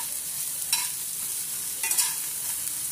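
Chopped onion, ginger and green chilli frying in a pan for a vegetable biryani, a soft, steady sizzle broken by two short stirring scrapes.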